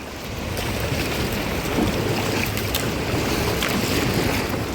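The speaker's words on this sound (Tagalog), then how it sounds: "Oy, alon!" Sea waves wash and slosh around a small boat out on open water, a broad steady rush mixed with wind buffeting the microphone, loud and close throughout.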